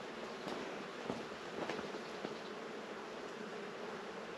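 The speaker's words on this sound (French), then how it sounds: "Il doit y avoir un nid de guêpe." Wasps buzz near a nest on a mountain road in Morocco, a faint, steady hum with a few louder passes, no voices.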